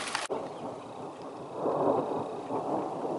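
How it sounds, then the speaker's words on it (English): Steady rain hissing with a low rumble swelling in the background, like distant thunder, no voices. "I think we're going to wait for this rain to subside again"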